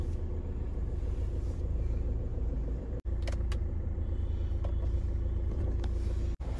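A car cruises along a highway with a steady, close engine rumble and road noise, broken by two abrupt brief dropouts, with no one talking.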